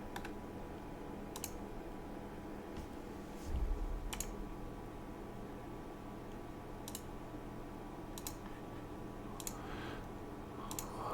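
A computer mouse clicks sharply and sparsely during work in 3D modelling software. Single clicks and short bursts arrive at irregular intervals over a low, steady room hum.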